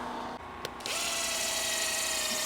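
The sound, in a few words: drill brush scrubbing car seat upholstery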